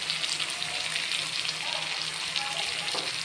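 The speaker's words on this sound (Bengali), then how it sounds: "টমেটোটা গলে যাওয়া পর্যন্ত একটু ভালো করে কষিয়ে নিতে হবে" Tomato masala for a cabbage dish fries in hot oil, giving a steady, soft sizzle with faint stirring scrapes throughout.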